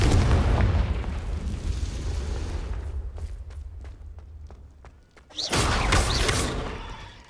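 In Hogwarts Legacy, the Confringo fire spell goes off as a loud, deep explosive boom. A rumbling roar fades into scattered sharp cracks, and then a second heavy burst hits near the end.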